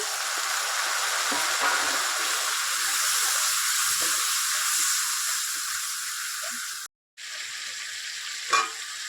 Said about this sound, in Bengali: এবার এই মশলাটা পেঁয়াজের ভিতর দিয়ে ভালো করে কষিয়ে নেব